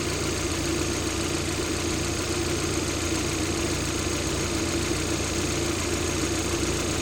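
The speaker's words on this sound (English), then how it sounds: "The compressor just engaged." A car engine idles with its air-conditioning compressor engaged, a constant, even mechanical hum and whir that stays close and unchanging, with no voices.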